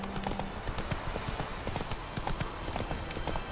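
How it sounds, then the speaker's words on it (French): A horse trots in the video game The Witcher 3, its hooves clip-clopping in a steady, quick rhythm against a dense ambient background. "Je monte sur mon cheval. Maintenant, je vais passer en avant pour trotter."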